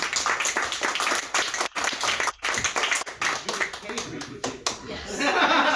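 An audience claps intermittently at a keynote speech event, loose scattered applause mixed with laughter while a speaker keeps talking over it.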